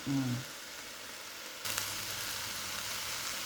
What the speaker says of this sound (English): we keep on frying